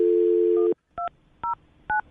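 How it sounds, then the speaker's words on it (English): A held dial tone cuts off, then three short two-tone keypad beeps follow at an even, unhurried pace, clean and close. "I'm going to dial her phone number right now."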